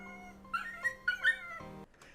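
A dog whimpers and yips in short, high, wavering cries over a steady hum, three or four whines in a row, from a rescue video playing back.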